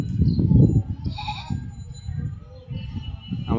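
Goats bleat in a farm field, a few wavering calls near and moderately loud, mixed with low rumbling background noise and some faint voices.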